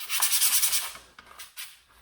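Rough hand sanding with 80 grit sandpaper, a run of close, rapid scratchy rubbing strokes followed by two short separate swipes, with no voices.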